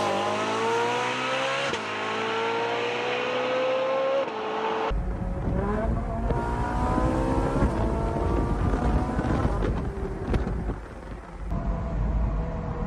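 A Ferrari 458 accelerates on the road with a loud, rising engine howl through repeated gear shifts, first from outside, then a rougher, bassier drone from within the car as it keeps revving and pulling.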